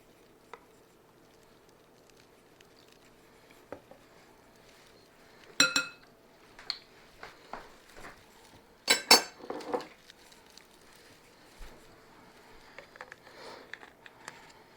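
A utensil clinks and scrapes against a dish while lemon bar ingredients with half and half are stirred together, in irregular bursts of metallic taps and soft sloshing, close and fairly quiet.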